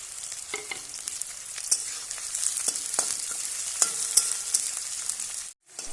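Garlic and onion frying in oil give a dense close sizzle with frequent crisp clicks and scrapes from stirring, before a sudden brief drop to silence near the end.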